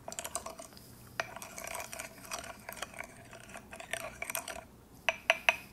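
A utensil stirs a small bowl of beef rice sauce to dissolve sugar, giving quick irregular scraping and clinking against the dish, ending with a few sharper taps.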